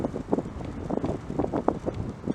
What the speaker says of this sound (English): this wind is starting to pick up a lot more